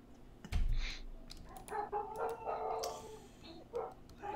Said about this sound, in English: Dogs are barking.